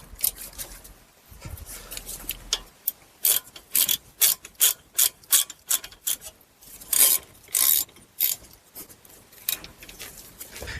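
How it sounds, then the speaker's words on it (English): A ratchet tightens brake caliper bolts on a Chevy Equinox, giving a run of about a dozen crisp, close clicking bursts in a steady back-and-forth rhythm after a few quieter handling noises, with no talking. "Then we're going to tighten these bolts to 20 foot-pounds."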